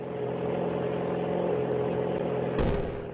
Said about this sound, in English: adding the sound of the car engine, which changes speed when the player is doing a combo